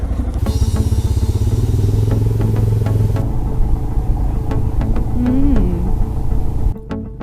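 A Royal Enfield Himalayan motorcycle rides off-road, its engine thumping in a steady loud rumble with clattering knocks and bumps from rough ground, close up, then it drops off abruptly near the end.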